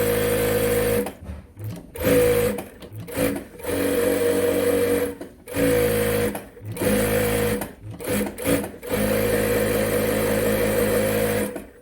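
A Brother S-7300A industrial lockstitch sewing machine in good condition whirs in rapid bursts of stitching, stopping briefly between runs, close and steady.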